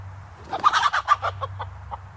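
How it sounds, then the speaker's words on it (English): A broody hen clucks in a short run of sharp, uneven calls that bunch together and then thin out, over a low, steady background hum, with no talking. "It's too early in the season for this hen to go broody"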